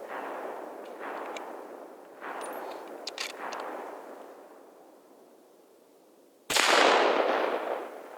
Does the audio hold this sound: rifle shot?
yes